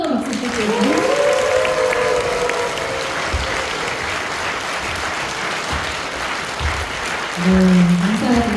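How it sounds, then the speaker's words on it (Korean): A church audience at a Christian seminar in Gangneung applauds a children's choir, giving a long, steady wash of clapping that swells again near the end, with a few voices audible underneath. "저희 친구들 들어올 때까지 한 번 더 박수 부탁드립니다."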